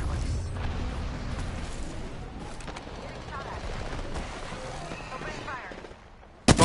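Rapid automatic gunfire and booming shots from an Apex Legends match, dense and loud for most of the stretch, with voices talking over it before it thins out near the end.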